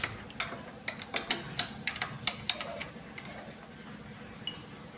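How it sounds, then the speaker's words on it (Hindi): A 12 mm kick shaft bolt being loosened on a Honda Xblade 160 motorcycle, a run of about a dozen sharp metallic ratchet clicks in a quick steady rhythm, close by, then a couple of faint ticks. "आपको यहाँ पे 12 mm के बोल्ट को ओपन करना पड़ेगा। चलिए हम इसको ओपन कर लेते हैं।"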